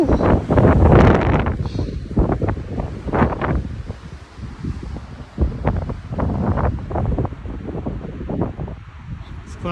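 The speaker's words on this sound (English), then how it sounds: "The wind really hasn't let up." Strong, gusting wind in Surprise Canyon, Death Valley, buffeting the microphone with heavy roaring bursts that rise and fall throughout, loud and close.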